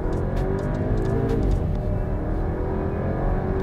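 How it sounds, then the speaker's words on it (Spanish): Volkswagen Tiguan compact SUV in Sport mode, flat-out from a standstill with the turbo kicking in: a steady, loud engine drone and whir rising under hard acceleration, continuous for a few seconds with no talking. "Hundiendo este botón, pongo Drive y voy a fondo."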